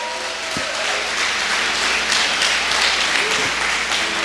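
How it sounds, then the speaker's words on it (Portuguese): A church congregation applauds during a sermon, producing sustained, full clapping from many people at once, with faint voices mixed underneath. "Quantos podem dizer aleluia e dar um aplauso a Jesus por causa disso?"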